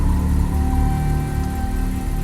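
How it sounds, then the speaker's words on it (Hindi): A car engine hums steadily at close range, a low, even idle with a faint whine above it. "इंजन में तो चालू है"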